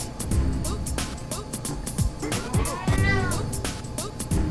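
A cat meows repeatedly and eagerly near a kitchen where dairy-free lasagna is being made, its cries close and loud, with faint talk underneath.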